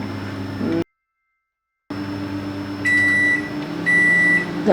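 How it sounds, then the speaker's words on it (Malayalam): A microwave oven preheating to 180 degrees for baking soft bread gives a steady low hum, broken by a brief silent gap, then two sustained electronic beeps signal that preheating is done. "മൈക്രോവേവ് ഓവൻ അവിടെ പ്രീഹീറ്റ് ആവുന്നതിൻ്റെ ചെറിയൊരു ശബ്ദമുണ്ട്"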